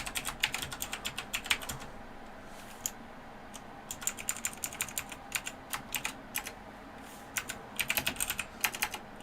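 Rapid bursts of typing on a computer keyboard while writing web application code, crisp close clicks in uneven runs separated by short pauses, no voices.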